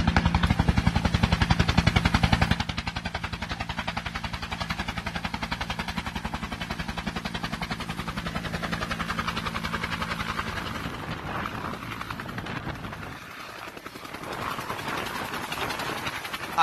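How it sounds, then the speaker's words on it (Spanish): An army brigade helicopter lands at a military heliport in Ocaña, its loud rotor chop pulsing steadily throughout, heaviest for the first couple of seconds and then continuing at a steady drone as the aircraft settles. "Aquí cuando aterriza el helicóptero de la Brigada 30 del Ejército en la base aérea"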